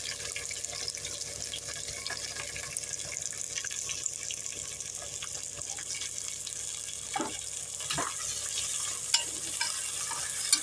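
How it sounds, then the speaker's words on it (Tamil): Onions, green chillies, coriander and mint sautéing in a pan for Tamil Nadu mutton biryani, a steady close sizzle with a few stirring scrapes and clinks near the end, no talk. "ரெண்டு மீடியம் சைஸ் வெங்காயம் கொஞ்சம் கொத்தமல்லி புதினா போட்டுக்கிறேன் இது நல்லா வதங்கி வரட்டும்"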